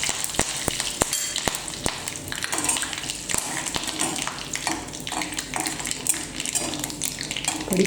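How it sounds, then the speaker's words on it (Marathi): Curry leaves crackle in hot oil with mustard seeds for tempering a village-style onion-chilli thecha: a busy, close sizzle with many sharp pops and spatters, and light metal stirring clinks throughout, no talking. "कढीपत्ता जरा भाजला चांगला की मग आपण ठेचा टाकायचा आहे वाटून घेतलेला"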